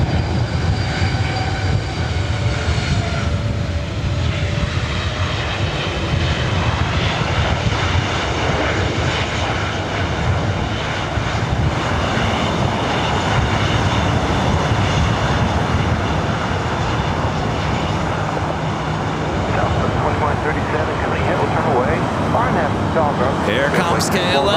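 An airliner bound for Phoenix roars steadily down the runway at LAX on takeoff, a broad, continuous engine rumble that stays loud throughout, with faint voices in the background.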